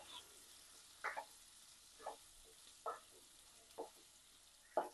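Potato and radish pieces, seasoned with salt and turmeric, frying lightly in a pan, giving a quiet steady sizzle with a few soft stirring knocks spaced about a second apart.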